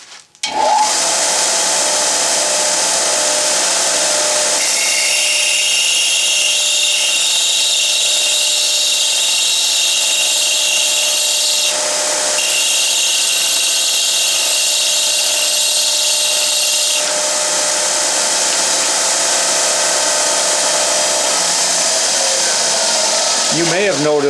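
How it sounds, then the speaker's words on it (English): Metal being ground on a belt sander in a machine shop, a loud continuous high whine and abrasive hiss that starts abruptly, with pressure shifts changing the tone partway through, then winds down at the end. "try grinding it on the belt sander at that 20 degree angle"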